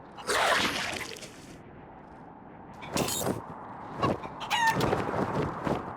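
A chicken in the video game Wasteland 3 clucks and crows in loud, repeated bursts, with brief quieter gaps between calls and a faint watery background.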